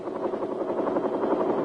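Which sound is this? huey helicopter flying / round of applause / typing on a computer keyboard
huey helicopter flying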